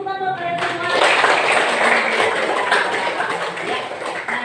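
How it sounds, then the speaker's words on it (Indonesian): Students applauding together in a classroom, a dense, steady wash of hand claps that rises after a brief spoken lead-in and holds close and loud to the end. "Kasih tepuk tangan buat kalian semua."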